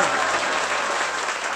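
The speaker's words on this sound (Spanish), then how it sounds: "un aplauso para ellos" Brief, steady applause from an audience at a political rally in Bolivia, a dense close clatter of many hands with no voices over it.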